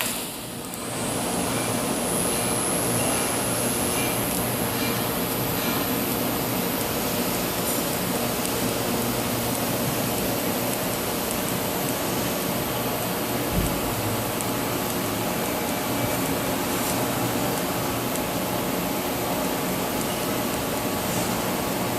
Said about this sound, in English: You just run a bead, just like you're welding steel or stainless, same technique, no pulsing on this first step.